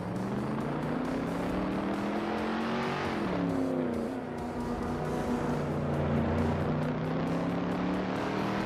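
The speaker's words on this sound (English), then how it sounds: "JC Productions is driving a 1969 Chevrolet Corvair." A 1969 Chevrolet Corvair races in a video game, its engine droning steadily with a dip and shift in pitch partway through as if changing gear, loud and continuous with no talk.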